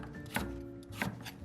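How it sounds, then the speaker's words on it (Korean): A knife chops a carrot on a cutting board in two distinct sharp strikes about half a second apart, fairly close and quiet, over a soft background of low hum. "당근은 반개 잘라줍니다."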